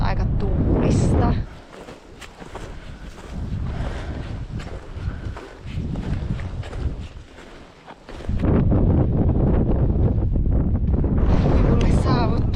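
Wind gusts across an open fell top in the Muotkatunturi wilderness, buffeting the microphone loudly in strong bursts at the start and end with calmer blowing between.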